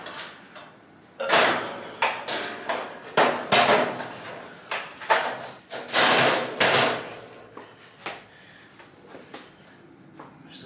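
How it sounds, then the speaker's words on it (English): A heavy steel griddle top for an Amazon Basics outdoor griddle is set down and settled onto its base, giving a series of loud, close metallic clanks and thuds over several seconds, with no one talking. "We're gonna throw the actual griddle top on top of the griddle unit here."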